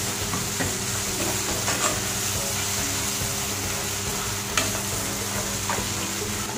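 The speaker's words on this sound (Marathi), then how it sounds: "आपला कांदा टोमॅटो हा चांगला मऊ पडला पाहिजे, तोपर्यंत आपल्याला चांगलं परतायचं आहे ते." Chopped onion and tomato sautéing in a pan for a vegetable kurma, giving a steady, loud, close sizzle with occasional scraping stirs throughout and no talking.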